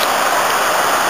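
A tumbling waterfall in mountain scenery at Llyn Idwal, swollen by a little recent rain, gives a steady, dense broadband rush that stays loud and even throughout with no voices.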